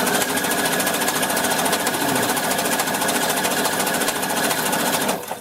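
A sewing machine runs loudly and continuously at high speed while stitching binding onto a blanket, its needle producing a fast, even rattle that stops abruptly near the end.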